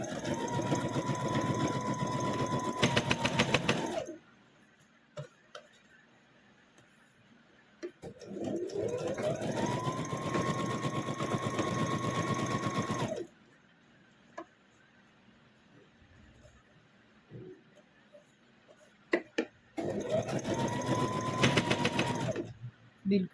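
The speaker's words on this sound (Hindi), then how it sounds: "यहाँ सिलाई लगा लेना है ऊपर नीचे।" A sewing machine stitches the hem of a tube top blouse in three steady, whirring runs of several seconds each. Quiet pauses separate the runs, and there is no speech.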